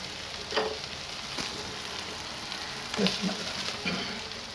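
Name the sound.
frying cow brain masala with egg yolks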